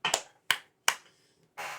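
Three crisp finger snaps at an even pace, given as applause, then a brief burst of noise; close and fairly quiet in a still room.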